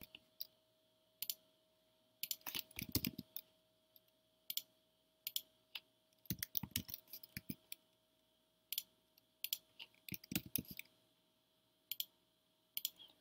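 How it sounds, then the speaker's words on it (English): Quiet, crisp key clicks on a computer keyboard come in short irregular bursts separated by pauses, as entries are typed in one at a time, with no talking. "So I can go ahead and type those in."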